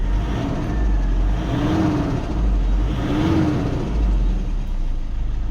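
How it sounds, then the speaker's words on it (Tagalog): A Toyota Innova engine revs in two or three swelling pulses over a steady running hum, heard close and loud with no talk. "At itry nating i-rev ang makina."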